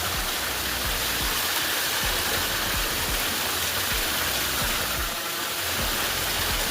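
A mountain stream and waterfall on the Girnar trek rush in a dense, constant roar of flowing water, loud and near, steady throughout with no talking.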